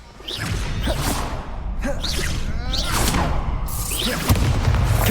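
Repeated Confringo blasting-spell explosions in Hogwarts Legacy burst out in quick succession, each a loud booming whoosh over a dense, continuous wash of battle noise.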